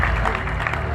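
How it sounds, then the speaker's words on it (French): Audience applause at an evening show, a brief thick burst of clapping from a crowd, close and fairly loud, with some voices mixed in. "Est-ce que vous pouvez vous applaudir?"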